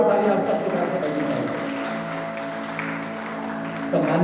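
An audience at an honouring ceremony applauds steadily and loudly for several seconds, a dense continuous wash of clapping with a slight swell near the end.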